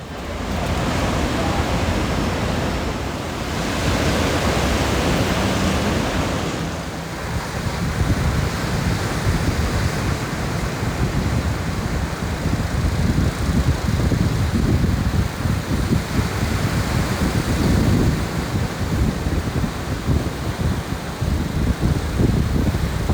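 Ocean waves wash steadily in a broad, continuous roar, close and fairly loud, with surges building and fading throughout and no talking.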